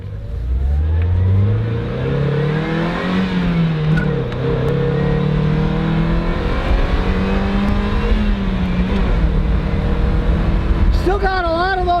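A small, sporty 140-horsepower car accelerates hard, its engine loud and close as the revs climb and fall through several gear changes across the run.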